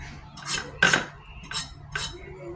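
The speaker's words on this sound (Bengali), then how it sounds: "পটলগুলো আমি এভাবে কেটে নিলাম।" A knife slices pointed gourd (potol) on a board in a kitchen, four separate crisp cutting strokes with short metallic scrapes, close and clear, no talk.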